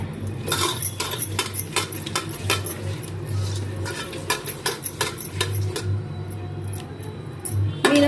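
Utensils stirring fish through masala in a metal pot, making repeated close metallic clinks, scrapes and taps in an uneven rhythm, with brief pauses between bursts of stirring.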